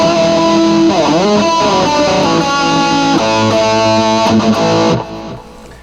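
Electric guitar played with distortion, a Troy Stetina signature model, ringing sixth and third intervals in a few sustained, harmonically rich chords that fade out at the end.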